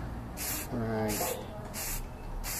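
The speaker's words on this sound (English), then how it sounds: "So okay, just spray horizontally." Aerosol spray paint can hissing in four bursts of broadband spray, each under a second, close by, with someone talking briefly between them while shading.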